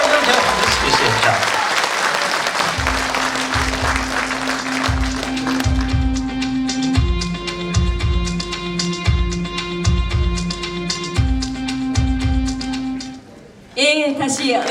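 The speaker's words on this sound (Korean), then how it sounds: "다시 한번 큰 박수 좀 부탁드리겠습니다" Audience applause at a Korean talk show, dense clapping for about two seconds that fades, then steady sustained music with repeated low notes and a brief loud burst near the end.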